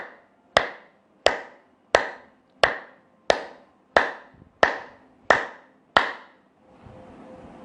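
Hands clapping during a yoga-style exercise routine, nine sharp, evenly spaced claps about two-thirds of a second apart, close and crisp with no talk, then a faint hum.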